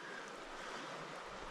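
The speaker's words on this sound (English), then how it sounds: "The water's rushing." River rapids in a wilderness setting give off a steady, broad rush of moving water at moderate distance, unbroken and without voices.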